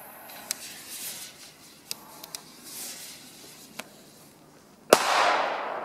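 A-Böller firecrackers set off on a New Year's Eve afternoon, several sharp isolated cracks scattered across the clip, ending in one loud close blast followed by a lingering hiss and rumble.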